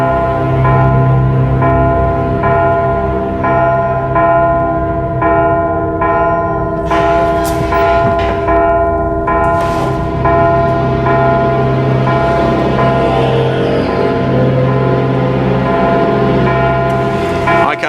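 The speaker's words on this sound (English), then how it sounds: "You've got to stop the bells from ringing." Church bells ringing loudly in a steady repeating peal, metallic tones overlapping and sustaining throughout, with faint voices briefly underneath.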